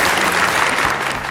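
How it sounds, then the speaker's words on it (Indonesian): Audience applause at an Indonesian Armed Forces (TNI) anniversary community fun walk, a dense steady patter of many hands clapping close by with no talk. "tepuk tangan sekali lagi"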